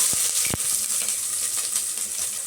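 Onions sizzle steadily in a hot pan as the base for a lablab bean (anapa) sambar. A few sharp utensil knocks sound near the start, then a constant, fairly quiet frying hiss continues with no talking.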